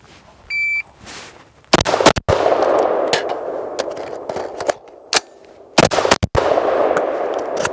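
Rifle shots crack sharply at an outdoor shooting range, several loud separate reports spread over several seconds with quieter gaps and a brief electronic beep early on.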